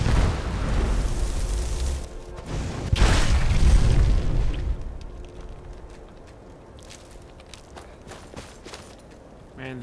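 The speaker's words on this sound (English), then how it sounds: "the explosion noise is so satisfying" A loud explosion goes off in the video game Skyrim, a sharp booming burst followed by a rumbling swell for a couple of seconds that then dies down into quieter game ambience with scattered small sounds.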